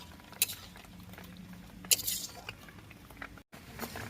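Soybean curry bubbling in a pan while a metal spoon stirs it, soft simmering noise broken by a few sharp clinks and scrapes against the pan.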